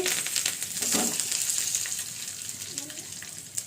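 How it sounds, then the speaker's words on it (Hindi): Dried red chillies and curry leaves fry in hot oil for Hyderabadi dahi bade, giving a steady close sizzle and crackle with a few sharper pops throughout. "अब इसको हल्का सा फ्राई कर लीजिए। अब इसी में कुछ करी पत्ते के पत्ते जाएंगे।"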